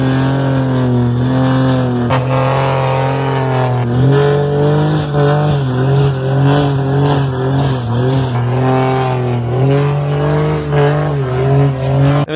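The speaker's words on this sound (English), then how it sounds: "there's videos of all kinds of dumb stuff, including when the burnout happened in the back." A car engine revs hard and steadily at high pitch, with tires squealing through a sustained burnout, loud and close throughout.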